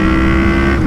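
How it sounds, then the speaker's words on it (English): Yamaha MT-03 motorcycle with a full Akrapovic exhaust, a loud, steady, deep engine drone held close up for about a second with no talk. "this Acra exhaust, the way that they tuned it, it just sounds insane"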